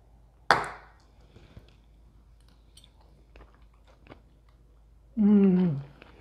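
Someone bites into cheesy zucchini roll-ups topped with Parmesan, giving one crisp bite up close followed by faint, quiet chewing, then a short appreciative hum at the end.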